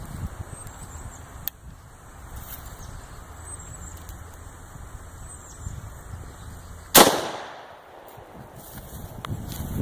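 A single loud 30-30 hunting round fires during a caliber penetration test, a sharp blast about two-thirds through followed by a quickly fading outdoor echo, with quiet ambient noise before and after.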